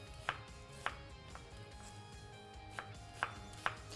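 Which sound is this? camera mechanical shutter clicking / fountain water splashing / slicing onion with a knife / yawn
slicing onion with a knife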